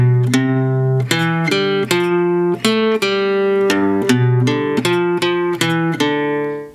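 An electric guitar plays an iconic 1950s rock riff alone, a run of crisp, loud plucked notes in a steady rhythm with sustained pitched tones between the attacks.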